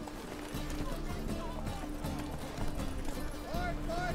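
Horse hooves gallop in The Witcher 3: Wild Hunt, a steady rapid clip-clop under game ambience, with a brief voice-like sound near the end.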